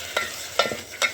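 Curry leaves and potatoes in hot oil in a pan on a wood-fired stove while cooking dal khichdi, soft sizzling with a few quick stirring scrapes, brief and close.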